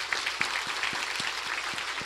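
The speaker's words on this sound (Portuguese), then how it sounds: "Para os romeiros, uma calorosa salva de palmas." Applause from a church congregation at a Mass honouring pilgrims from Alagoas at Padre Cícero's celebration, a steady, moderately distant wash of many hands clapping, fairly soft and even throughout.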